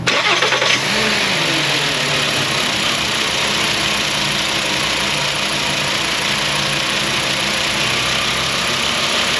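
A Volkswagen engine in an auto repair shop cranks and starts, then settles into a steady, loud running drone that holds for several seconds without voices.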